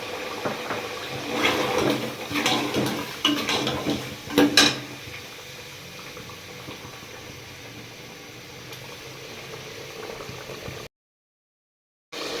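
Yogurt goes into a pan of masala and chicken, bringing soft sizzling, bubbling and the clatter of a spoon against the pot. The sounds are busier early on, then settle into a quieter simmer before a short gap of silence.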